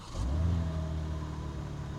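A BMW car's engine starting, a short burst of cranking and ignition followed by a steady low idle hum that holds for the rest of the moment, fairly close and without voices.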